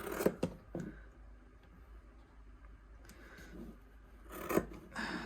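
A few crisp snips of scissors cutting through felt, quiet and close, with rustling in between.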